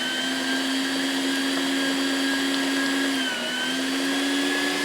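An electric WonderMix mixer blending hummus with tahini: a loud, steady whirring motor hum that dips briefly in pitch under load and then recovers, with no voices.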